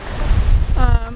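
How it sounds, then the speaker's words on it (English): Strong wind buffets the microphone in loud, low rumbling gusts, with a brief voice-like tone near the end. "it's really windy."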